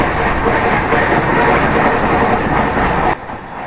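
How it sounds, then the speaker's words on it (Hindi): Interior of a moving, nearly empty passenger train in North East India: a steady loud rumble with rhythmic wheel clatter running throughout, dropping suddenly to a quieter hum just before the end. "यह है कुछ ट्रेन के अंदर का नज़ारा।"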